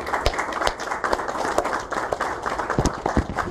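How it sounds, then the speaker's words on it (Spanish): An audience at an academic lecture applauding the professor, with distinct, uneven claps ringing out at close range and no talk. "Un fuerte aplauso para el profesor"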